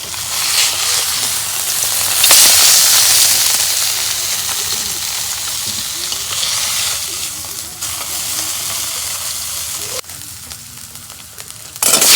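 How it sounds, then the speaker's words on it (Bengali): Fish sizzle steadily in hot oil in a pan, a loud continuous frying hiss with stirring bursts and brief gaps, close up with no talking. "ভাজা হয়েছে মাছগুলো"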